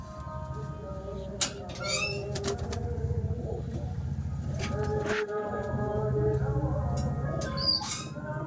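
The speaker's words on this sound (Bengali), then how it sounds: "এটা লাল শিরা পায়রা, পাঞ্জাবি লাইনের, ঠোঁট ছোট।" Soft cooing of a red-veined, short-beaked Punjabi-line pigeon and a few brief squawks among a steady backdrop of birds, with faint wing flaps now and then.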